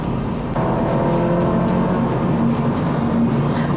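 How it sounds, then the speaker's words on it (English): A 2021 Audi A4 accelerates hard toward high speed, with a steady, loud engine drone and rising harmonic tones heard from inside the car, continuous and without talk. "I love how quickly this car actually touches triple-digit speeds"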